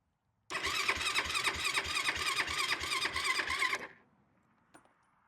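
A Yamaha YFZ450 ATV engine cranks over in one loud, rapid burst of rhythmic starter churning with a whining squeal, lasting about three seconds, then stops and the scene falls quiet.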